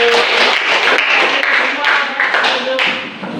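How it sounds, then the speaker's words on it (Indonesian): Students in a classroom clap their hands together in a dense, steady burst of clapping lasting a few seconds, close and fairly loud, with a few voices mixed in. "Oke, tepuk tangan dulu."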